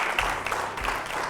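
An audience in a studio show applauds in a brief, dense wash of clapping.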